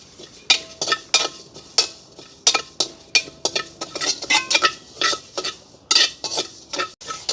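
Fennel and cumin seeds dry roast in a pan, stirred with a utensil that scrapes and clinks against the metal in quick, irregular strokes, close and fairly quiet, with no speech.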